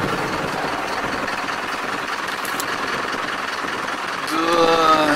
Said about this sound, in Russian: На самом деле и завелся он с детонацией